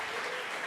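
Church congregation applauding for Jesus during worship, a dense, steady wash of clapping that fills the short moment without pause.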